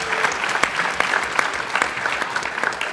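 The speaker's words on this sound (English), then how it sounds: "give them a round of applause" A crowd applauds steadily, dense clapping from many hands with a few sharper claps standing out, sustained throughout without a break.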